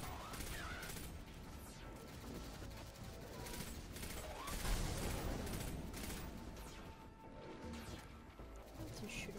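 Gunfire aimed at the player in Destiny 2, a dense, continuous barrage of shots and crashing impacts blending with mechanical clatter, loud and busy throughout with a voice briefly speaking.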